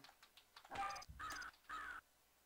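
Crows cawing in the Creepy Castle video game, three loud harsh calls in a row with short gaps, each lasting about a quarter second, preceded by faint clicks.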